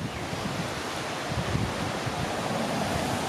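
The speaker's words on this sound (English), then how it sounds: "Sorry about the wind as well," Steady wind roars across the microphone outdoors on a windy day, a dense, even rushing hiss that stays constant throughout, close but fairly quiet, with no voices.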